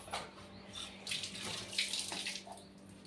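Water pours in a steady, splashing stream into sour, few-days-old buttermilk at home, close and fairly quiet with no talk.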